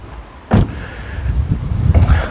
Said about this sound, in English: I'm gonna pop the front hood.